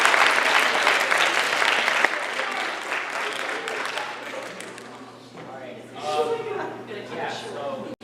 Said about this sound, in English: So give my cast a round of applause.